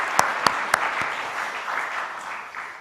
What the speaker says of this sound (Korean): 우리 한번 큰 박수 한번 합시다